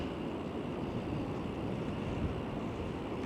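Constant roaring wind buffets the microphone at the seaside in Blackpool, with a broad wash like surf underneath, steady and unbroken throughout.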